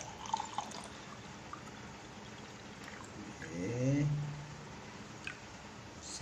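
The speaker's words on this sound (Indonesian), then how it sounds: "ini kita akan masukkan air langsung saja" Water pours into a container holding fishing bait, a brief gurgling fill swelling near the middle amid soft drips and handling noise.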